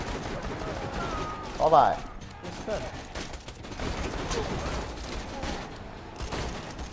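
Borderlands 2 gameplay gunfire crackles in scattered bursts and volleys under a player's voice, with one louder burst near the start and steady battle noise throughout.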